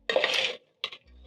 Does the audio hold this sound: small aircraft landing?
no